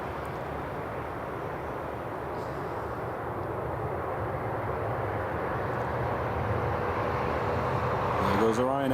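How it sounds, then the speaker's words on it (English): Ryanair jet engines at Newcastle International Airport give a steady, loud, broadband roar that holds throughout, with a slight swell near the end. "Oh, you can hear them engines going."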